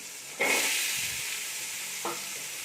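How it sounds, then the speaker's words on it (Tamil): Mixed vegetables, including brinjal, hit hot oil with a sudden loud sizzle while being sautéed for sambar rice. A steady frying hiss continues, and a second stirring scrape follows about two seconds later. No one speaks. "இப்போ இந்த காய்கறி எல்லாத்தையும் நம்ம இதோடு சேர்த்து வதக்கிக்கலாம்"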